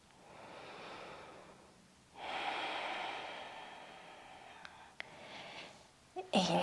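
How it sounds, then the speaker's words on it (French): Deep, slow breathing while lying down in a yoga class, long airy inhales and exhales that rise and fall close to the microphone, with soft whispered speech nearby. "Prends de belles respirations."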